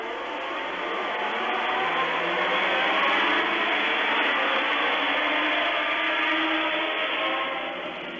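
Formula 1 cars at the start of the 1982 German Grand Prix, a dense, steady roar of many engines building and holding loud throughout, with a broad sustained drone and no speech.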